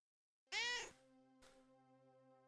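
A cat gives one loud, clear meow at close range, then falls silent over a steady low hum in a home workspace.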